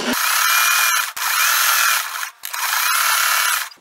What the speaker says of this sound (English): just go ahead and sew around each block